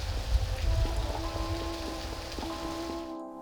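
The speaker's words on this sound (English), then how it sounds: "The rain is always present in this map" Steady rain falls across the rp_Downpour map in Garry's Mod, a constant hiss of drops on surfaces with a low rumble and faint tonal hum beneath, cutting off abruptly at the end.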